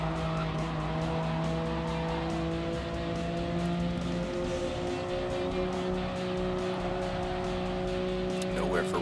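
A Nissan Skyline race car in a racing video game holds a steady, sustained engine drone with faint tire squeal, continuous and close throughout.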